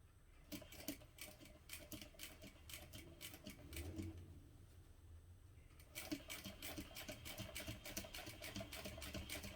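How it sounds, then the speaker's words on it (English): A sewing machine top stitches a seam on a vinyl tote at a 4.5 stitch length, running slowly as a steady rapid rattle of needle strikes, with a short pause midway before resuming, close and fairly quiet. "I'm just top stitching all along that seam"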